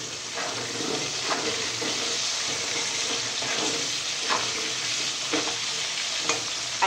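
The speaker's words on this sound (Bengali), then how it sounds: "লঙ্কা পেঁয়াজগুলো ভাজা হয়ে গেছে, এবার ওই আলুটা দিয়ে দিলাম।" Potatoes land in a pan of hot oil with already-fried chillies and onions, setting off a loud, constant sizzle close by, broken by occasional scraping stirs.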